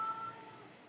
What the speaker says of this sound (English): Is that my cat? Okay, that's my cat.